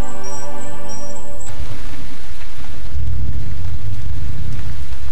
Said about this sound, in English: Rain is the lifeblood of all tropical forests.